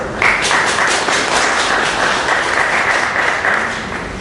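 An audience applauds an invited speaker at an evening literary program, with dense, steady clapping that holds at full strength for about four seconds before easing slightly at the end.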